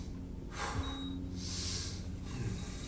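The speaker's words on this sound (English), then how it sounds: "looked like it was a pretty big sniff" Several sharp, breathy sniffs or snorts come in quick bursts, close to the microphone, against a low background rumble.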